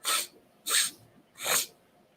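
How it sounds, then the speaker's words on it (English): Three sharp sneezes from an adult, close and loud, evenly spaced about three quarters of a second apart, each a bright burst of breathy noise with quiet breathing in between and no talk. "Finally sneezed. Oh my goodness. I can feel more coming on."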